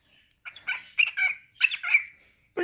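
A pet cockatiel chattering close up in short, bright, warbling phrases with brief pauses between bursts, mimicking the rhythm of talk.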